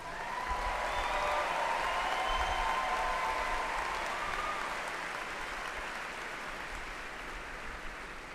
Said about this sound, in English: Please join me in extending another round of applause for our doctoral graduates.